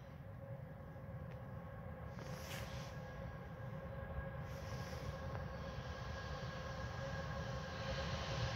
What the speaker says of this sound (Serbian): Evo upravo prolazi voz.